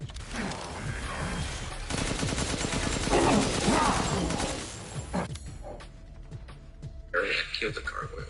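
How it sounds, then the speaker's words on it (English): Handgun gunshots in Resident Evil Village, repeated sharp shots mixed into dense game noise under a voice talking throughout. "We're gonna run down here with our handgun in hand and shoot the red guy."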